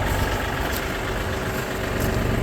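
A steady low rumble of a Kioti NS 4710 tractor engine idling nearby, with wind noise over it and no talking.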